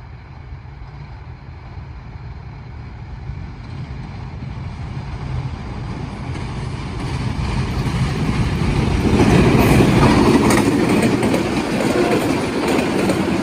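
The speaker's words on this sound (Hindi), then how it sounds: "हमारे सामने से आ रही है 106 डाउन रावल एक्सप्रेस, लीड पे है GU20 4562" Rawal Express passenger train, 106 Down, passing a station platform in Pakistan at night, a loud steady rumble and clatter of rail cars that swells as the train draws closer, heard alone at close range.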